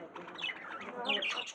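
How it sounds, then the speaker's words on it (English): Small pet birds in a village chirp and tweet in quick, bright overlapping calls, close and fairly loud, with no one talking over them. "Now see, these are Batikor birds."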